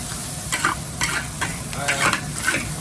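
Guyanese Chinese fried rice with carrot, onion and scallion is stirred and turned in a hot pan, soft sizzling under a rhythmic scrape roughly every half second.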